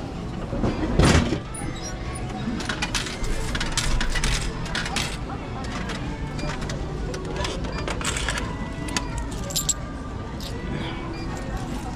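Coins clatter down inside a vending machine near Shibuya Crossing in Tokyo, a sharp metallic drop near the start followed by scattered clinks over steady street noise.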